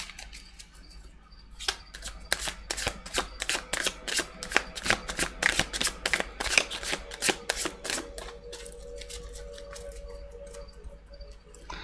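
Rapid crisp riffling of tarot cards being shuffled, bursts of fluttering clicks in the middle, then quieter handling with a faint background hum.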